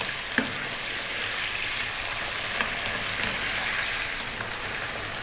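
Black chicken pieces fry in oil in a pan, a steady close sizzle with a few faint clicks of stirring, no voices.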